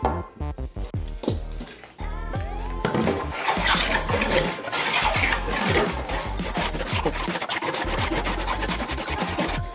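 Hand-working an oak reducing threshold: a steady, close rasping and rubbing of a file or sandpaper over wood, in continuous strokes after a few sharper knocks at the start, with no talk.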